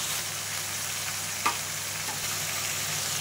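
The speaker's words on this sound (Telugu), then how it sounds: "కలుపుతూ ఉండాలి." Vegetables frying in a pan, a steady bright sizzle running throughout with one brief scrape of stirring near the middle.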